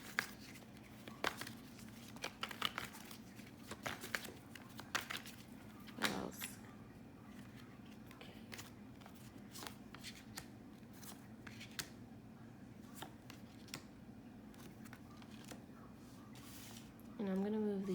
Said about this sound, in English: I'm basically going to shuffle these cards